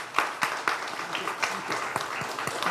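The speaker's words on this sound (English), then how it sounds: "give them a big round of applause, guys" An event audience claps for the volunteers and members who organized the gathering. The applause is moderate and steady, with some individual claps standing out, and a voice is heard speaking over it.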